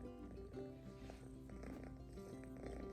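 A domestic cat purrs close up and faintly indoors, a soft continuous rumble with a steady pulsing rhythm and no talking.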